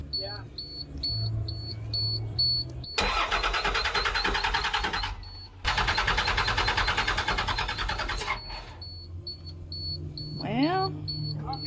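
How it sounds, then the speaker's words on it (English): A bus engine cranks in two long, loud bursts of rough whirring, separated by a brief pause, while a high warning beep repeats before and after and people talk nearby. "Go ahead and turn the ignition on"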